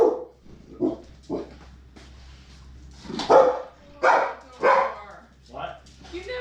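Several dogs bark and yip excitedly in short bursts, some near and loud, others lower, with a person's voice talking over them in a domestic setting.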